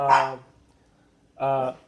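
Dog barking twice indoors, two short close bursts separated by a pause, with people talking nearby.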